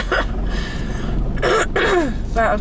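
Close, loud throat clearing and rough coughs, a few separate bursts in a quiet room, with a short voiced sound between them.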